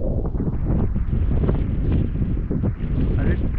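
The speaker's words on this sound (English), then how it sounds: "I didn't calculate for the wind." Loud, steady wind buffeting the microphone during a long ski run at Snowbasin, a continuous low rumble with gusty surges and no clear speech.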